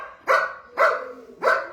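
A dog at an animal shelter barking three times in an even rhythm, each bark sharp, close and clear with quiet gaps between.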